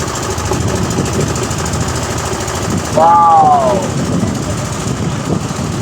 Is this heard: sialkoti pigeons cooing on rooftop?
no